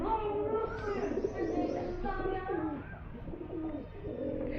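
Pigeons coo in a new pigeon setup on a rooftop, a steady stretch of soft, throaty rolling calls repeating close by for several seconds with a faint murmur of voices beneath.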